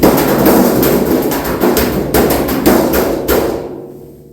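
Sheet metal roof of a 1953 Chevy with a chopped top being pressed and tapped to check for oil canning, a loud rumbling hollow drumming with sharp thumps that fades out over a few seconds.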